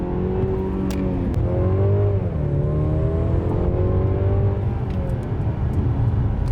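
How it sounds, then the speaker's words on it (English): A 2022 Mercedes-Benz C 300 in sports mode revs up and accelerates hard, loud and close, its pitch climbing steadily with continuous throaty roar throughout. "And here we are with that quick sports mode acceleration."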